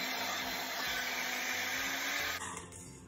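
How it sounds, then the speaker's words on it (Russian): An immersion blender whirs steadily while mixing Caesar salad dressing, a loud close motor whine with a pulsing low rumble, then it cuts out and the sound dies away near the end. "И массу будут перебивать погружным блендером."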